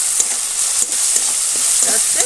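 Tomato masala for a spicy okra fritter sizzles as it is sautéed in a pan, a loud, close frying hiss with brief scraping stirs and no talk.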